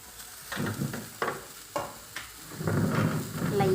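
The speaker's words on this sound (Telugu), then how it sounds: "ఈ చింత చిగురుని కూడా మనము ఫ్రై చేసుకోవాలి" Tender tamarind leaves fry in a little oil, a steady close sizzle broken by several louder stirring scrapes and bursts, with no one talking.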